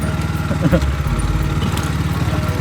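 A Rusi Classic 250 motorcycle running steadily while dropping from third to second gear, its engine a continuous close, low chugging throb with a brief shift in pitch partway through.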